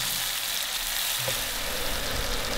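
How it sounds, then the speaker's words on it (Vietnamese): Chopped tomatoes sizzle and spatter while being stir-fried in hot oil in a pan, a dense, steady hiss close up with faint scraping, no voices. "Và cho hết phần cà chua đã băm vào. Xào lên cho cà chín mềm nè."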